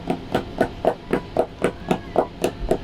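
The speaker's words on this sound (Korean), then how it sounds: "망치로 갖고 와서 이렇게 치면 돼 이렇게" A hammer pounds a raw pork neck cut about 8 mm thick to tenderise it, with about ten steady, evenly spaced thuds, close and moderately loud.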